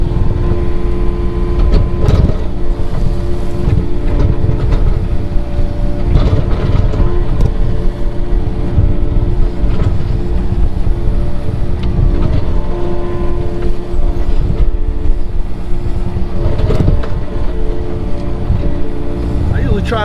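A mini excavator digging dirt, its engine rumbling loud and close with a steady low roar and occasional knocks from the bucket and hydraulics, someone talking over it.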